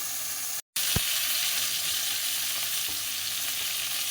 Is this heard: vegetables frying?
yes